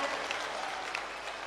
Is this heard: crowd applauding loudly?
yes